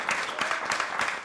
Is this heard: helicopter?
no